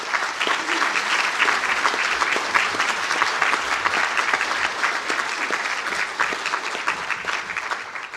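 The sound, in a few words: round of applause for graduates at conferring ceremony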